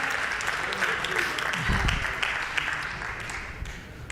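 An audience at a church service claps and applauds with dense, steady patter, while voices talk over the crowd noise.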